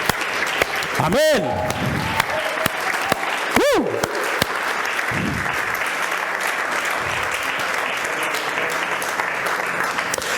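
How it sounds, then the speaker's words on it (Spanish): A church congregation bursts into applause during a Spanish-language sermon: a dense, steady clapping that fills the room throughout, with a few voices calling out over it. "Déle un aplauso al Rey, hermano."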